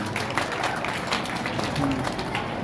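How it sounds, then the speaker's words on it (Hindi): An audience claps loudly at a school annual function in Rajasthan, a dense, steady wash of applause filling the whole moment, with faint voices mixed in beneath it. "तो एक बार जोरदार उनके लिए तालियां हो रही है।"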